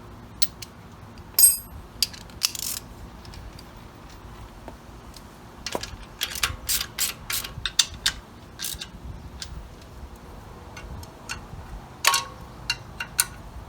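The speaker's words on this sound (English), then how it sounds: "I don't know what's going to happen when I tighten all the other bolts" A ratchet tightens the bolts on a chrome alternator bracket on an SBC 350 engine, giving close, sharp metallic clicks in short irregular runs with pauses between them.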